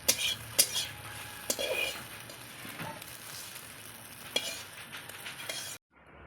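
An egg fries in a pan for a Bengali-style chow mein, giving a steady soft sizzle broken by occasional clinks and scrapes of a utensil on the pan before it falls silent at the end.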